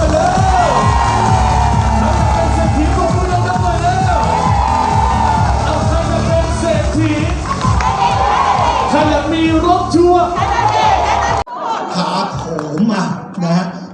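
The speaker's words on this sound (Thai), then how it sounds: "ขอเสียงปรบมือให้ทุกท่านครับ" A crowd at a Thai local enterprise certificate and award ceremony cheers and applauds loudly, with shouts, whoops and amplified voices over a dense, continuous roar that cuts off abruptly near the end, leaving thinner chatter.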